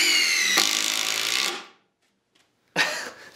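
Milwaukee power tool driving a bolt through a knot in wood: a loud, high-pitched whine with rising strain for about a second and a half, a pause, then a brief second burst of the motor.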